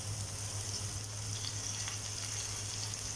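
Canned tuna sautés with tomato and onion in a pan, giving a faint, steady sizzle with light stirring and a low background hum.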